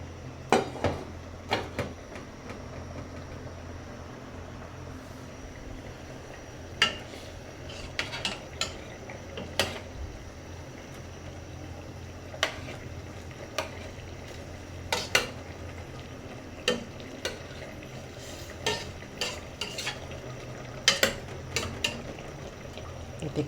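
Greens and chili simmer in coconut milk in a pan, a soft bubbling backdrop broken by scattered sharp clinks and scrapes of a metal utensil against the pan.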